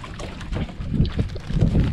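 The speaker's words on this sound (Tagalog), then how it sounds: "Marinig ko baga naman yung kaingay ng makina. Kalakas-lakas ng andar." A boat engine runs loudly and continuously on a fishing trip, a rough low rumble mixed with wind and water noise close by.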